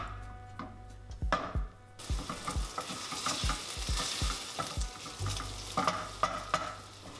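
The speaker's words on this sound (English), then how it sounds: "I'm gonna add that cut up bacon to the pan. And then we're just gonna cook off this bacon." Cut-up bacon fries in a pan with a steady close sizzle, broken by repeated clattering scrapes of a utensil stirring the pieces, with no one talking.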